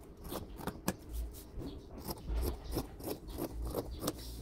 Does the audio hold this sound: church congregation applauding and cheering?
no